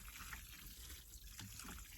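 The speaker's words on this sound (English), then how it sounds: "I'm gonna go ahead and water this in good because this was so dry." Garden hose watering freshly planted peppermint, pansies and mums in dry soil, a steady close trickle and splash of water running continuously without talk.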